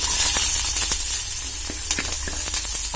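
Onions frying in hot oil with panch phoron, a loud close continuous hiss and crackle with occasional sharper pops and light stirring scrapes, no voices.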